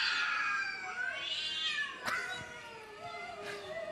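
A human voice imitates cats in heat caterwauling: a long, wavering, yowling meow slides up and down in pitch, loud and close, with brief sharp clicks, no talking.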